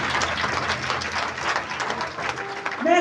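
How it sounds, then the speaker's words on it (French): Audience applause at a Ivorian secretaries' association celebration, a steady wash of clapping throughout with a faint voice near the end. "Merci de bien vouloir les honorer par vos acclamations."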